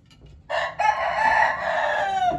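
A gamecock crows once nearby, a loud, drawn-out call that strains and holds before trailing off.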